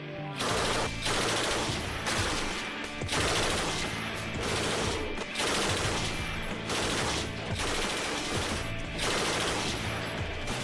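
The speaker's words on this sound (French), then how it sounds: "la Mac 48 est ni plus ni moins la mitrailleuse idéale" A Mac 48 machine gun fires in sustained, loud, rapid bursts, separated by short pauses, with the sound of the shots filling the whole stretch.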